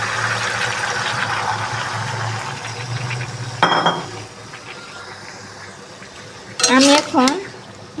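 Malabar spinach being stirred in a cooking pan, with metal utensil clinks and scrapes in bursts, a sharp clatter midway and a louder flurry of clinking near the end, over a low background hum.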